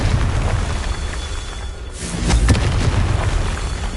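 Confringo fire spell in Hogwarts Legacy bursting with a deep boom around two seconds in, set against a steady wash of game ambience and a rumbling tail.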